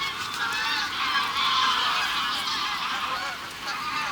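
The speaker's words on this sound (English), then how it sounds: "Listen to them geese." A flock of geese that have just landed on a lake honk continuously, a dense chorus of overlapping calls heard from a moderate distance in open air, with no talking.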